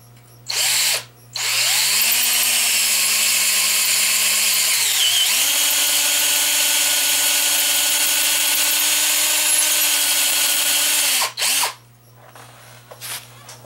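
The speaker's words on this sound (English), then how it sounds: "My drill is stuck in drill mode." A power drill stuck in drill mode whirs loudly in two long sustained runs, with a brief burst at the start and a short rev at the end, pitch dipping between runs.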